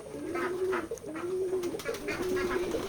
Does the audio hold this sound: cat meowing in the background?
no